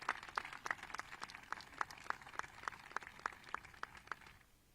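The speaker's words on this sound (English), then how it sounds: "Please, another round of applause for our keynote speaker." Faint, sparse applause for a keynote speaker at an outdoor climate summit at Lake Tahoe, with evenly spaced claps that sound like only a few distant hands, fading out near the end.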